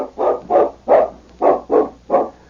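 A large dog barks six times in a steady, evenly spaced rhythm, each bark loud, close and full, with nothing else heard between them.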